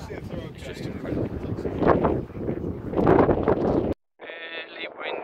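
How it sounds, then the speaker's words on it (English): Strong wind buffets the microphone on a coastal clifftop in Cornwall, a loud, continuous roar of gusts with faint voices under it, cutting off abruptly near the end before a brief tonal sound. "Really windy, really windy up here."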